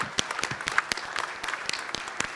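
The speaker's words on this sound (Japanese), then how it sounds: "大き な拍手をお送りください" At a press conference for the TOKYO VICE cast, an audience gives a modest round of applause, sparse distinct hand claps overlapping at a moderate level, somewhat distant.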